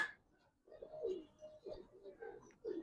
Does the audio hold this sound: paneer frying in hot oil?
no